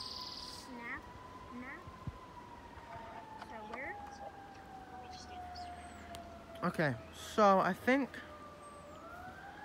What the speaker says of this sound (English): I do apologize for the loud sirens.